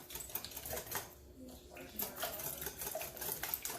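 Eggs being whisked with coarse black pepper make a faint rapid ticking and clatter against a bowl, with a voice speaking over it.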